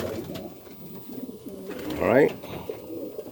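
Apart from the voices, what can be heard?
racing homer pigeons cooing in a loft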